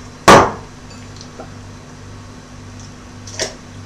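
Nuts drop into a blender jug holding water with one sharp clatter, then a second fainter rattle near the end, over a low steady hum.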